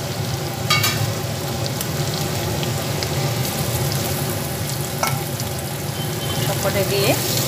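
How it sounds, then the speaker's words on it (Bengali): Vetki fish pieces frying in a pan with capsicum and onion for chilli vetki, a loud, dense, continuous sizzle with occasional spatters and utensil clinks, close up and without speech. "পরে এর মধ্যে ভেটকি মাছগুলো দিয়ে দিচ্ছি।"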